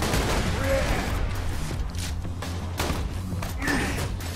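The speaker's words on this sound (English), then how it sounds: "and then a grenade to finish that up" A grenade goes off in the video game Borderlands 2 amid dense, continuous gunfire and explosive thumps that stay loud throughout, with a player's voice and gasps mixed in.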